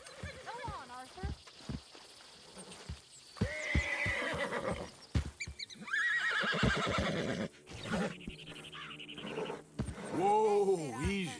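A horse in the Red Dead Redemption 2 game whinnies and snorts repeatedly, with hooves clopping nearby, while someone speaks between the calls.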